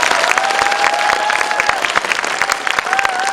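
Audience applause at a film guest-visit event in Seoul, steady dense clapping from a large crowd that continues evenly throughout, with a faint tone and murmur beneath.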